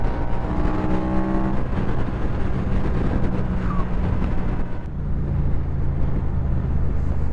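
A 2016 Yamaha FZ-07 motorcycle cruising in fourth gear on the interstate, with steady engine drone under loud, constant wind buffeting on a bike without wind protection.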